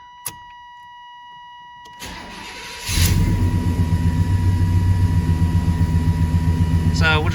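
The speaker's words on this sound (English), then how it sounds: "what the truck is doing is it's idle hunting all the time" A TBI-equipped truck engine with a failing computer idles roughly, its low pulsing rumble surging and hunting after starting up, with a warning buzzer chiming faintly beforehand and nobody talking.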